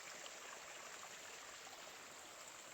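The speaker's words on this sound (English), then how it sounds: "you guys can probably hear it. But right now, early spring, you know, water's been flowing pretty good." A mountain stream in early spring runs strongly just below Unicoi Gap on the Appalachian Trail, making a steady, dense rushing wash with no pauses and nobody talking.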